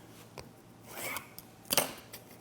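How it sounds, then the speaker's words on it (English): Scissors cut out a picture from an old book page, giving close crisp snips and rasping slices, a couple of sharp cuts within a brief quiet moment. "Then cut out your picture and you've got it exactly the right size"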